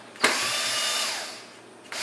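A power driver backs screws out of a Boss Katana amplifier casing, starting with a click and then a steady, close whirring that slowly winds down before a brief restart.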